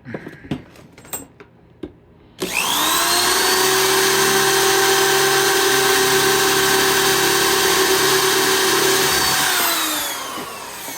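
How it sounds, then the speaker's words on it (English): A few clicks and handling taps, then a power drill whirs loudly and steadily for several seconds drilling a hole in a circuit board before winding down. "I'm just going to simply drill a hole in it."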